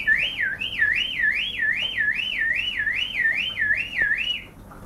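A voice imitates an ambulance siren, a steady rising-and-falling wail repeating about ten times without pause, close and fairly loud, with no other sounds.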